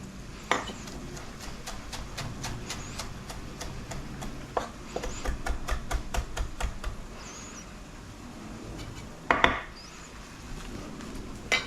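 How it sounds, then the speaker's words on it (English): A knife chops fresh basil roughly on a cutting board, close and fairly loud, with a burst of quick, uneven knocks in the middle and scattered single taps before and after, and a slightly heavier clatter near the end. "Let's chop up our basil here. Just a real rough chop on it."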